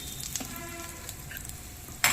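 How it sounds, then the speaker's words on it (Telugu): Mustard seeds, urad dal, cumin, dried red chillies and hing tempering in hot oil give a steady close sizzle with faint crackling, ending in a sharper burst of spitting. "పోపు వేగుతోంది"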